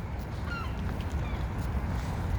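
Faint honking bird calls over a loud, constant rumble of wind and water in downtown Chicago in winter, distant and intermittent.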